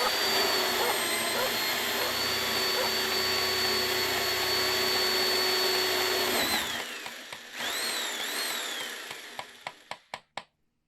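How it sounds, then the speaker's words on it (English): Spatialized 3D mix of a barking dog, hammered nails and a power drill: a steady whining drill fills most of the clip, then sparse sharp impacts and short barks trail off toward the end. "you could hear a dog barking on the right, nails being hammered on the left, and a drill pretty much in the center"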